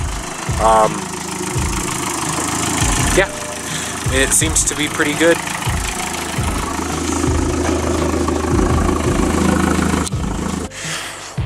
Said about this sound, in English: the car is on and warming up